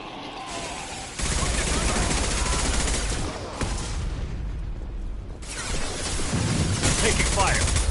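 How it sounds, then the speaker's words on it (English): Sustained bursts of gunfire and booming impacts fill a Mass Effect 2 firefight, loud and continuous with brief lulls, while voices speak over the combat. "Taking fire."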